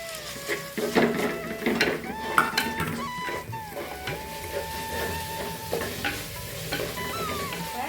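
Chopped garlic and dried red chillies sauté in a pan, a close, steady sizzle broken by scraping stirs and clinks of a utensil against the metal.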